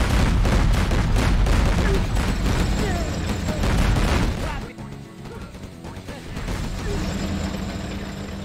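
A Chinese Gatling tank in the strategy game Command & Conquer Generals Zero Hour fires rapid bursts of gunfire with crashing impacts, loud and dense for several seconds before easing off, then picking up again.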